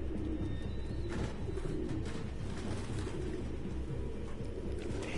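Pigeons coo in a low, continuous murmur, several birds overlapping in a steady background flock sound with no talking.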